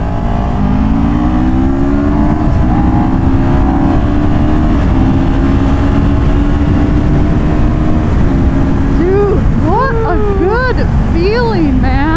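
A Chinese 650cc motorcycle engine pulls hard on a wet road, a loud continuous drone rising in pitch through the gears, with wind rush and voices underneath.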